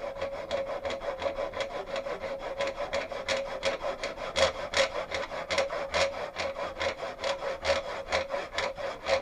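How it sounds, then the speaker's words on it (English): Hand saw cutting a slot along the grain of a wooden arrow shaft to take a horn insert, a fast, even back-and-forth rasping stroke repeated close up with no talking. "We're sawing with the grain, in the direction of the grain, because we're going to put the horn sliver in here."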